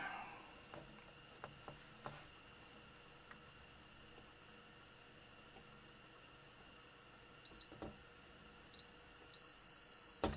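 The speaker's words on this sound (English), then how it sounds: "Let's check it with some beeps." A multimeter's continuity tester beeps while checking circuit board traces on a Macintosh LC-series logic board being recapped: two short beeps, then a longer steady tone, over faint background handling noise.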